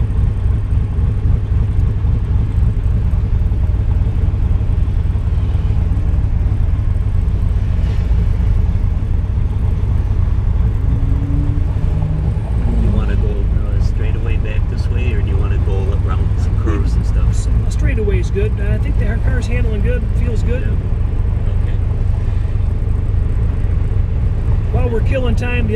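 A 1966 Corvette big block with a four-speed on a test drive, its engine a steady low rumble heard from inside the car throughout, with people talking over it.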